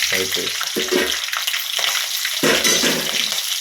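Green chilli and fenugreek fry in hot oil for a Kerala-style mackerel curry. A close, steady sizzle and crackle rises in surges as the pan is stirred.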